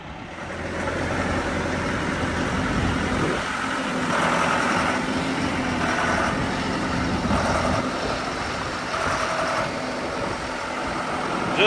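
An old Ford Ranger pickup runs its engine while backing slowly into place with a trailer hooked on, a steady low idle rumble with slight swells as it creeps along.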